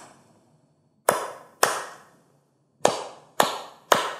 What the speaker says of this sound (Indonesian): anak mengikuti irama tepuk tangan.